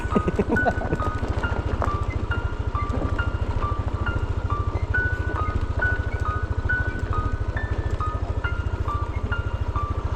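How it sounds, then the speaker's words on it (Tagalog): A vehicle's brakes squeal again and again as it works up a steep mountain road, sharp repeated squeaks riding over a steady, pulsing engine drone. "Tunog yung preno ko eh."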